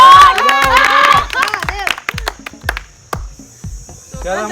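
A small group at a home mango-pulp drinking challenge claps: loud shouting voices first, then a string of sharp, separate claps close by, a few people rather than a big crowd.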